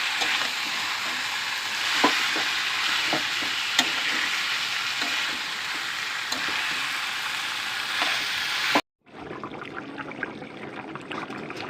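Chicken pieces being stir-fried and sautéed in a pan for a light-spiced Bengali chicken curry, with a steady sizzle and occasional spatula scrapes and taps, then a brief cut to a quieter, fresher burst of frying.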